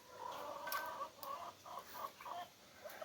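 Several hens cluck and murmur close by inside a chicken coop in a busy, irregular chatter, with no talking.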